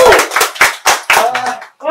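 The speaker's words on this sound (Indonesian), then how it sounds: "Tepuk tangan yang meriah untuk Bang Sinyo." A small group claps for a guest on a talk show, a handful of loud, close, uneven bursts of hand claps that fade out with a brief voice at the end.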